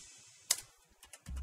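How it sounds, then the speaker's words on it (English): Computer keyboard keys are pressed to trigger DUBTurbo drum samples: a sharp click, then a few faint ticks, ending in a low thumping sample hit, all quiet and close. "What you heard there was me pressing the keyboard and it triggered our sounds."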